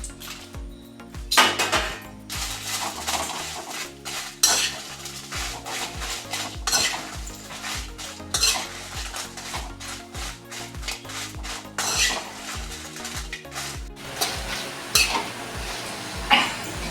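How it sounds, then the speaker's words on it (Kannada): Kumte chillies frying in oil for garlic chutney, stirred with a metal spoon in a pan, producing repeated scraping clinks and knocks over a low sizzle, close and fairly loud, with no talk. "ಮೊದಲಿಗೆ ಕುಮಟೆ ಮೆಣಸನ್ನು ಎಣ್ಣೆ ಹಾಕಿ ಹುರಿದುಕೊಳ್ಳುವ"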